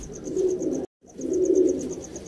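A pigeon at a home loft in Sialkot gives two close, soft, throaty coos, split by a short silent gap, and a faint rhythmic high chirping runs behind them.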